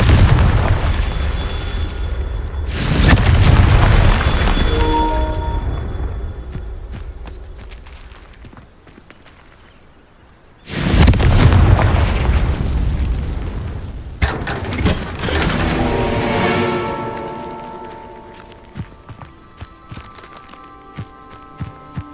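A Confringo fire spell blast in Hogwarts Legacy, with two loud booming explosions separated by a quieter stretch and followed by rumbling debris, footsteps and musical game tones.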